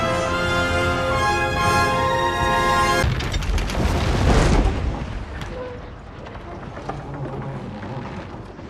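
A volley of shots rings out during a battle in the video game Kingdom Come 2, a loud booming burst following a few seconds of sustained voices and tones, then decaying into rumbling battlefield ambience with people talking.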